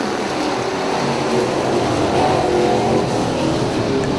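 Super Street race cars accelerate together at a green flag start at Dixieland Speedway, a loud, sustained roar of engines that builds slightly as the field pulls away.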